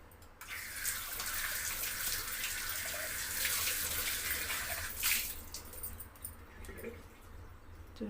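Running water rinsing a scrubbed copper vessel, a steady close splashing and hiss from a tap lasting several seconds, easing off toward the end with small trickles and clinks, no speech.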